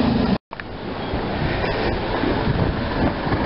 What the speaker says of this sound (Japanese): これ急行ですね。